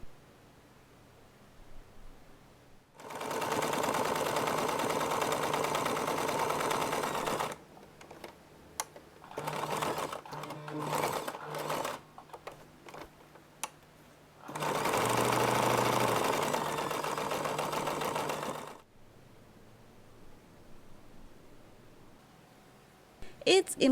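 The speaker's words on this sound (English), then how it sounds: "After pressing, top stitch all around the zipper." A sewing machine topstitches fabric all around a zipper on a round pouch, whirring steadily in two long runs with shorter bursts of stitching between them.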